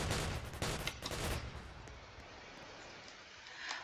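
Gunfire from the Roblox Zombie Attack video game: a quick burst of several sharp, close shots in the first second and a half, then a softer, steady game hiss.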